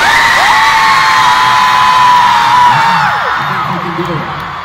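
Concert crowd at a show in Chicago cheering and screaming loudly, a sustained high-pitched roar of many voices that fades somewhat toward the end.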